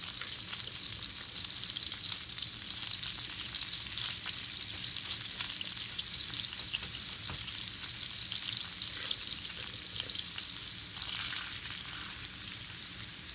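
A sweet potato mix fries in a pan for a plant-based breakfast, giving off a soft, even sizzle with occasional light crackles that holds steady throughout, and no voice is heard.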